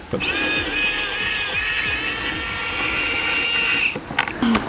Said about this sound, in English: We're going to take our computer screwdriver here, remove the bad board.